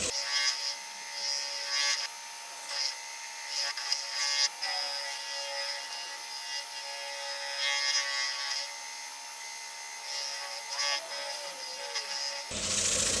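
A cherry wood bowl being sanded, giving a steady, faint scratchy rubbing with repeated strokes, alone without talk until a brief change at the very end.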